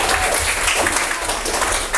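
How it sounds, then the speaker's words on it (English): A school audience at LANDAU School breaks into a round of applause after a guest speech, a steady wash of clapping that fills the whole stretch at close range. "Give a round of applause."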